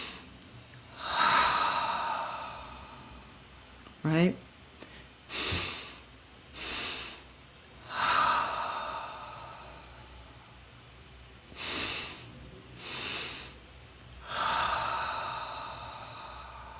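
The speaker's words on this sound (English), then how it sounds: "And then you exhale out, slow, long exhales." Slow, long exhales for relaxation breathing, several drawn-out breaths through the nose and mouth with airy, sighing exhalations spaced apart, close and quiet, with a brief spoken word in between.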